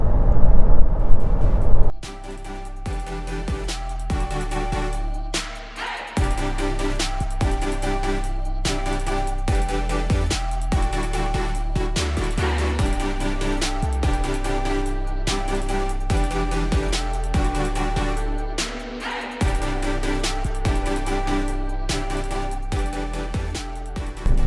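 A Ford Kuga diesel mild-hybrid cruises on the motorway, giving a steady loud road and engine rumble with a sharper burst at the start and a brief dip near five seconds.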